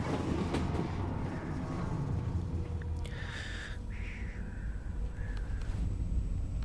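Rumbling train ride in Half-Life: Alyx, a steady low rolling roar of wheels on rails with squealing metallic screeches rising over it in the middle, close and continuous.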